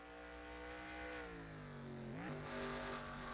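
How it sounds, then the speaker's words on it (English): NASCAR race cars heading down pit road, a steady engine drone with a pitch that dips and shifts as the cars slow, heard faintly and a little distant. "let's see if these cars are coming down pit road this time by"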